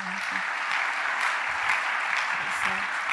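A church congregation applauds in a steady, dense wash of clapping that fills the space throughout, with voices faintly audible beneath it.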